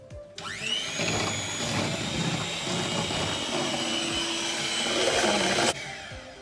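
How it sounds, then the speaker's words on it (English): Ten eggs being beaten with an electric mixer, a loud, steady whining motor hum that starts abruptly, holds for about five seconds with slight pitch wobble from the bowl, then cuts off. "10 eggs, which I've just got to beat. So I'll just start beating them now."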